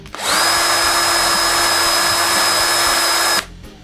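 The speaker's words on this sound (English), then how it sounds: "After drilling the holes," A power drill whines steadily at high speed for about three seconds while drilling holes in masonite, loud and close, then cuts off abruptly.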